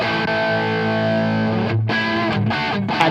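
Distorted electric guitar chords heard through a wireless in-ear monitor system ring out, heavily effected and sustained, then a few choppy strummed stops near the end.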